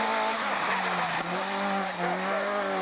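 A yellow and white Opel rally car, number 17, drives at a rally event, its engine holding a loud, steady, close-up drone with a slight dip partway through.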